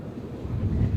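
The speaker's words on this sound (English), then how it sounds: "And here it's windy." Steady gusting wind on the Dorset coast buffeting the microphone, a low continuous rumble with no voices.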